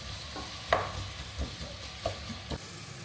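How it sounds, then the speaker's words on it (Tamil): Onions sautéing in a pan for mutton biryani and chicken gravy in a home kitchen: a soft, steady sizzle broken by a few clinks and scrapes of stirring. "இப்போ வெங்காயம் வதங்கிட்டே இருக்கட்டும்"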